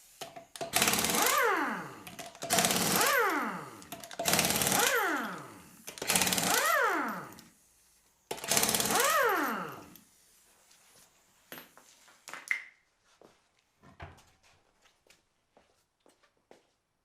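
An air impact wrench run off a compressor loosens lug nuts on a 2003 Chevy Trailblazer, with five loud, ratcheting bursts of about a second each and short pauses between them, then quieter clanks and handling noises.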